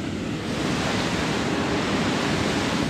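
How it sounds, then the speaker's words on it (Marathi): Steady, loud rushing of glacier meltwater flowing from beneath a glacier on the Shrikhand Kailash trek, roaring continuously and close by, a dense broadband wash with no pauses or voices. "ग्लेशियरच्या खालून पाणी येतं"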